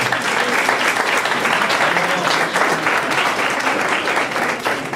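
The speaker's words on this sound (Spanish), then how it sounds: "para quien pido nuevamente un fuerte aplauso" Sustained audience applause at a human rights commission conference honoring Dr. Namiko Matsumoto Benítez, a dense, even roar of many hands clapping in a hall, loud and continuous throughout.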